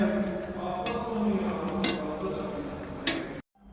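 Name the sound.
chicken jaali kebab frying in a pan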